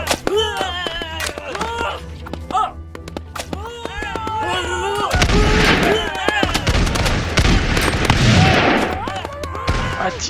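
Musketeers firing volleys in a strategy game battle, with scattered cracks and booms that thicken into dense overlapping gunfire, set against game music and brief voices.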